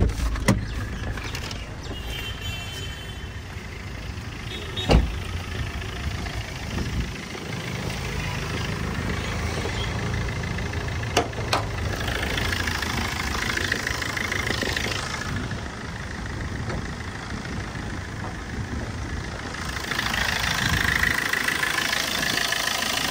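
A Maruti Swift Dzire VDI diesel engine idles with a steady, close, rattly clatter, broken by a few sharp clicks and knocks, and grows a little louder toward the end.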